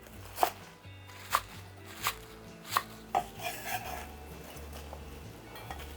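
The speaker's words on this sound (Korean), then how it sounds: "쪽파는 한 3, 4cm 간격으로 썰면 됩니다." A knife chops scallions steadily on a cutting board, sharp taps repeating about once a second with soft scraping between, close and fairly quiet.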